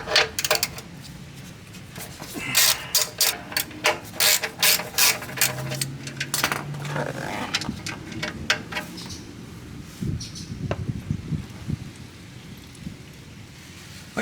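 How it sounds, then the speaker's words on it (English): Ratchet loosens the 17 mm oil drain bolt on a Honda Element 2.4L four-cylinder, a close series of quick clicking bursts with pauses, followed by light metallic handling noises. "let's go ahead and remove the 17 millimeter drain bolt"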